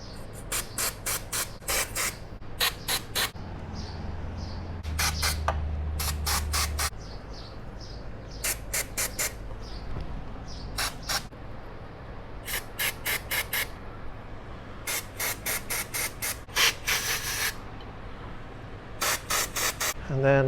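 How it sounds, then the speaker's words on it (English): Short bursts of contact cleaner spray hiss on engine parts during an engine wash, repeated many times in quick, irregular runs and close by, with a faint clicking mechanical bed underneath. "Then let's spray some contact cleaner."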